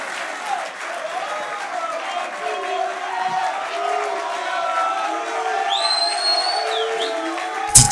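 A studio audience at a live Congolese television variety show claps and cheers steadily throughout, with scattered whistles and shouts rising near the end, while a host's voice carries over the crowd noise.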